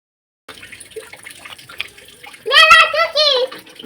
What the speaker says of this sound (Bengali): এ কানে ঢুকে যাবে জলটা, দেখেছো কি অবস্থা, কিভাবে স্নান করছে